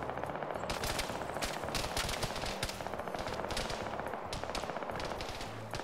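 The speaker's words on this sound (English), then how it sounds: "Yeah, you have plenty of machine gun ammo." Dense, sustained automatic gunfire from a machine gun in a PvP shooter game, rapid bursts overlapping with other shots in a loud, continuous barrage with no talking.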